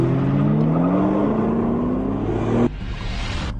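A 2006 Ford GT at full throttle on a race track toward the finish line, a loud, close, sustained engine roar with rising pitch that cuts off abruptly, leaving a lower drone.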